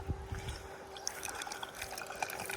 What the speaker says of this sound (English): Got water circulating down to the dam that we've made.